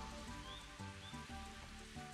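Steady rain falling in a golf game on the Nintendo 64, a soft continuous patter laid under tonal background music, with no voices.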